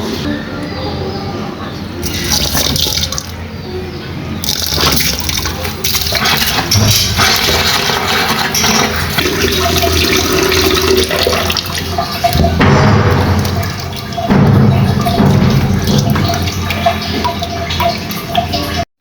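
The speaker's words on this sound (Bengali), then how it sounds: "ডাল চাল একসাথে মিক্স করে ধুয়ে নিয়ে চলে আসলাম" Rice and lentils swished and rinsed together in water for khichuri, with steady sloshing and splashing, pouring water and occasional clatter filling the clip at close range.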